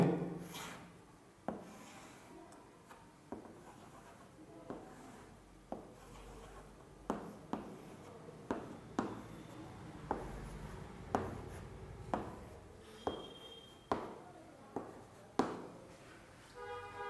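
Pen or marker scratching across a board during a physics lesson, steady close strokes broken by regular sharp taps every second or so, with no voices.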